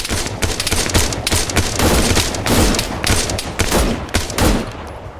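Sustained automatic gunfire crackles and booms in the Antistasi game on Altis, dense overlapping bursts of rifle and machine-gun fire, loud and continuous for several seconds.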